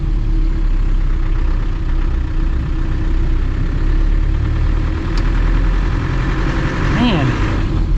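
A classic Land Rover Defender's engine drones loudly and steadily from inside the cabin while driving, a continuous low rumble with mechanical rattle and a brief whine near the end, a voice talking over it.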